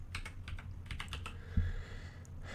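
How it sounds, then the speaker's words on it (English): Quick bursts of keystrokes on a computer keyboard while filling in a spreadsheet, close and fairly quiet, with a brief pause and a soft thump partway through. "This is just me typing on my spreadsheet."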